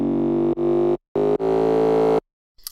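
Growl synth patch using phase and ring modulation with no effects, playing loud, dense buzzing notes in three bursts separated by brief gaps, followed by near silence.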